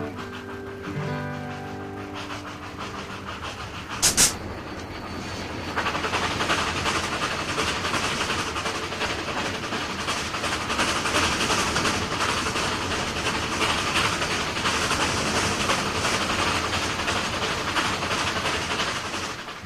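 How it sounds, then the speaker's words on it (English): Steam passenger train rolling south along a river, a steady dense rumble and rattle of cars on the rails that swells after a brief sharp hiss, continuous and fairly close, with no talk. "The clicking of the wheels on the rail, the gentle pitching of the cars had a hypnotic effect"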